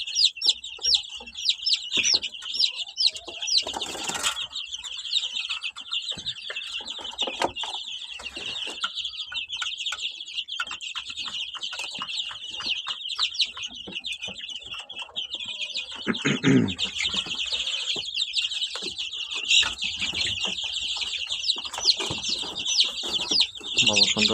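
Fifteen-day-old chicks under a red heat lamp peep shrilly and without pause, a dense chorus of overlapping high chirps that stays loud throughout, with a few brief lower sounds breaking in.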